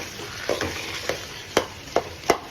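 Masala for chicken kappa biryani stirred in a pan, a soft background sizzle broken by five or six sharp spoon scrapes and knocks at uneven intervals, close and without talk.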